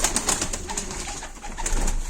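A male Gökperçem pigeon coos in a bird loft, soft repeated low calls close by, mixed with other bird sounds and rustling.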